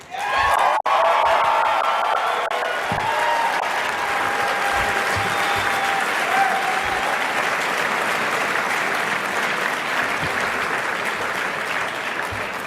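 Sustained applause from a crowd at an awards reception, steady and fairly loud throughout, with a brief sharp clap near the start and no voices standing out.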